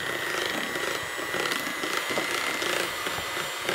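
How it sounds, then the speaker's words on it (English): Wet keto blueberry muffin batter with vanilla extract is whisked until smooth, giving a close, continuous scraping swish with quick, uneven strokes and no talking. "now we're gonna whisk it up until it's nice and smooth and creamy"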